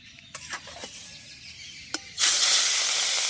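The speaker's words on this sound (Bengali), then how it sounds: "গরম হয়ে গেছে পুরো ধোঁয়া উঠে গেছে এবার আমি মাছটা দিয়ে দেবো" Katla fish dropped into smoking-hot oil in a wok: quiet clatter and a few clicks, then a sudden loud, broad sizzling hiss erupts and holds steady, close and strong to the end.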